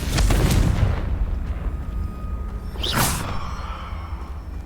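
A fire blasting spell, Confringo, bursts with a booming explosion in the game Hogwarts Legacy, with a rumbling blast early and a second whooshing burst near the end over game ambience.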